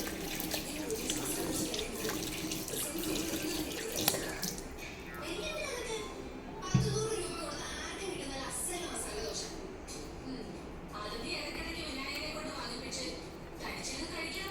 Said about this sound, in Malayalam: നമുക്കിതൊന്ന് കഴുകിയിട്ട് നോക്കാം റിസൾട്ട്